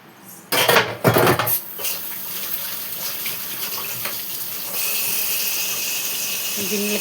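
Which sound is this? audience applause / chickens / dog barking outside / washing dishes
washing dishes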